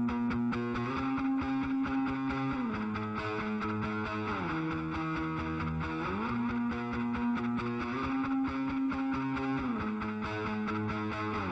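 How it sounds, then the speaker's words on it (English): Sustained tonal music line with stepping pitch changes runs through an Echo Boy echo plugin, giving a smeared, repeating delay tail across the whole passage, steady and fairly loud with no talking. "now I'm gonna bring in Echo Boy."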